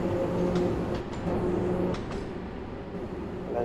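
A Bakerloo Line Underground train rolls past in Train Sim World 5, a steady rumbling rush of wheels and carriages with faint clanks, loud and close for a few seconds.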